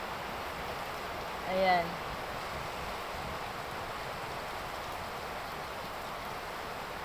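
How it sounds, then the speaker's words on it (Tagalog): Steady rain falls outside, a constant soft hiss at low level throughout, with a brief spoken word from a person indoors. "Umuulan na naman siya guys sa labas."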